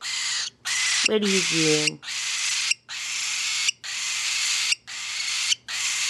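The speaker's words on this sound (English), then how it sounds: "you're screaming like you want something" A pet bird screams over and over, loud harsh screeches in a steady rhythm of bursts separated by short pauses, close by, with a person briefly speaking over one of them.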